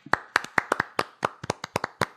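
A small group claps in a quick, uneven rhythm of sharp, distinct hand claps, close and dry, during a baseball podcast, with no talking over it.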